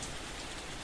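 Light rain falls in a steady, even hiss, a continuous soft patter on surfaces with no other sounds, quiet throughout a quiet night scene.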